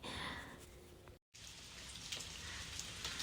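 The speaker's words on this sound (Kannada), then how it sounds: "ತುಂಬಾ ಮಳೆ ಬರ್ತಾ ಉಂಟು" Heavy rain pours down in a steady, dense wash of hiss and patter, unbroken apart from one momentary dropout.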